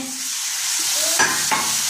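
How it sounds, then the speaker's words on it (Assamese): Duck meat stir-frying in a pan with splashes of water: a steady hiss of frying, with a couple of sharp sizzling bursts where the water hits the hot metal, close and alone. "এয়া মই পানী ছটিয়াই ভাজি আছোঁ"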